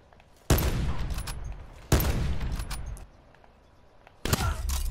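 Sniper rifles fire in a one-on-one match in the video game Black Ops 4, three loud, sharp shots spaced about a second and a half apart, each with a long ringing tail.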